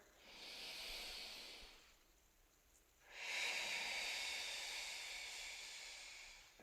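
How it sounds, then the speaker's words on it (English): Two long, loud breaths during a pilates wall exercise, each a broad airy rush lasting a couple of seconds with a short quiet gap between them, close to the microphone with no talking. "Super deep breaths."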